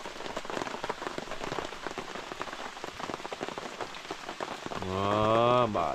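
Rain pattering steadily and fairly softly on a surface outdoors, a continuous dense patter with no voices, joined at the very end by a short rising tonal sound.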